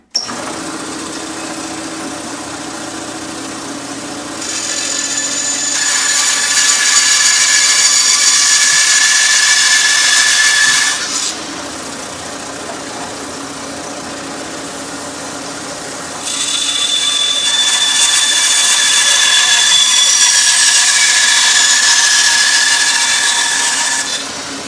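A power saw cutting reclaimed wood for a smokehouse, running in two long, loud, steady whining passes with a quieter idle hum between them, heard up close and without speech.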